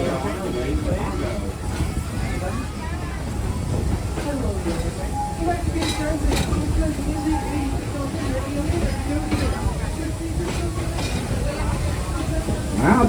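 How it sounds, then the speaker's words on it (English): Serengeti Express train at Busch Gardens Tampa Bay rolling slowly into its Congo station, a continuous low rumble and hiss with occasional squeals, with people talking over it. "our train is slowly pulling into our Congo station"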